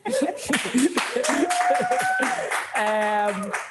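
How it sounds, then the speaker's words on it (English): Scattered hand claps from a small group gathered in a room at a leaders' forum plenary, sounding sparse and fairly close, mixed with voices and a murmur that could be light laughter. "I can hear some of them clapping in the room."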